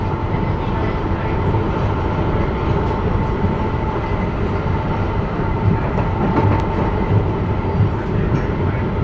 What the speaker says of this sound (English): This is a 2-car train, as most weekday train cars are.